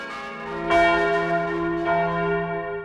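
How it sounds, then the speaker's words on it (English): Bells of a parish church steeple's tower clock strike the quarter hour, two loud resonant strokes about a second apart with long ringing decay, close and alone. "The tower clock strikes every quarter hour."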